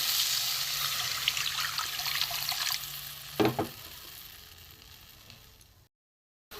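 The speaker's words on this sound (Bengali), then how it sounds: "এবার আমি জল দিয়ে দেবো" Hot fried spice masala for an egg and potato curry sizzles steadily in a pan. Midway, water is poured in with a brief, sharp splash and hiss, then the sizzling fades before a short silence.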